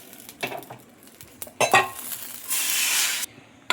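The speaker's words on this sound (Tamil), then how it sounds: "நம்ம குக்கர் தூக்கி அப்படியே அடுப்பில் வச்சிடலாம்" A metal pressure cooker is lifted and set onto a home kitchen stove, producing a few close clanks and knocks, followed by a brief rushing hiss before it cuts off.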